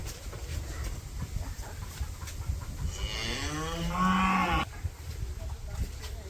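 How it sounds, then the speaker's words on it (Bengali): A cow at a Bangladeshi village home gives one long, rising moo close by, lasting over a second, against quiet outdoor background noise. "তো এই বাড়ির গরু।"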